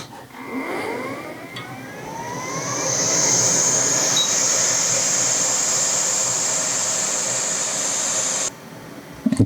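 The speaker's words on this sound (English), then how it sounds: "then we're going to come back in with our heat gun again" A heat gun blows hot air while resoldering a part on an HP ProBook or EliteBook laptop, a steady, loud fan whoosh that ramps up after a brief start and runs continuously before cutting off near the end.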